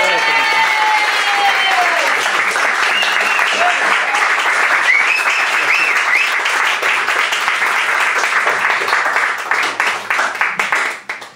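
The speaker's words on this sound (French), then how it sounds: "Est-ce que vous pouvez m'applaudir pour m'encourager?" A stand-up comedy audience claps enthusiastically, loud continuous applause with some cheering voices mixed in, holding strong before tapering off abruptly near the end.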